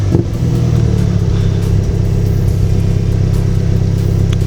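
A 2019 Mini John Cooper Works sports car engine runs loud and close after starting, settling into a steady, deep, throbbing idle that holds evenly throughout with no talk.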